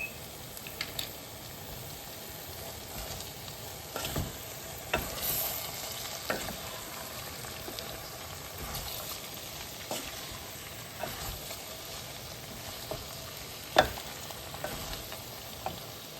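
Salted potatoes sizzle steadily in a pan, with an even hiss running throughout and occasional scrapes and clicks from a utensil stirring them, close up and without speech.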